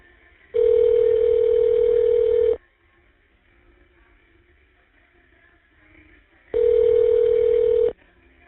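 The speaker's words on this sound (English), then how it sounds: "The number is now being dialed." Prison phone call being dialed: two loud, steady electronic ringback tones of about two seconds each, separated by a few seconds of faint line hiss.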